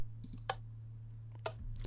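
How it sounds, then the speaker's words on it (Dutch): Stone buttons in Minecraft are pressed twice, each giving a short, faint click spaced about a second apart over a steady low hum. "Namelijk heb ik een verschil tussen de stenen drukplaat en knop en de houten druknaap en knop."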